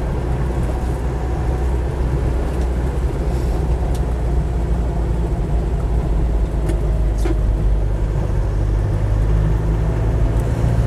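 A Land Rover 90 2.5TD pickup with 106,000 miles drives along. A steady, loud, low engine and road drone holds evenly for the whole stretch, with no talk.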